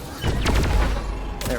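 Rapid volleys of charged weapon shots in the video game Deep Rock Galactic, a dense burst of sharp blasts and booms in quick succession, with a brief pause before another shot near the end.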